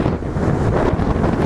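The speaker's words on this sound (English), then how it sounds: "we've got a bit of a blustery day" Blustery seaside wind buffets the microphone on a gusty morning by the sea in Blackpool, a steady rough low rumble that fills the whole short stretch with no voices.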